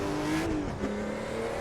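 Porsche 935 Moby Dick race car in Assetto Corsa, its engine droning steadily at high revs with a brief pitch dip as it shifts or lifts, loud and close with no talking.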